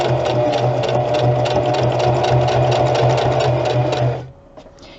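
A sewing machine stitching a leather zip-around wallet, a loud, fast, steady mechanical whirr with rapid needle clatter that stops abruptly near the end, leaving faint handling noise.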